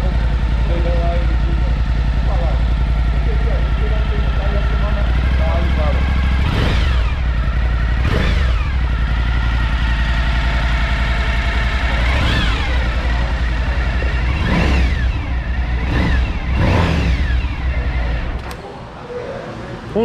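A Suzuki V-Strom 1050 motorcycle engine runs loud and close at a steady idle, with several sharp throttle blips rising and falling over it before it cuts off near the end.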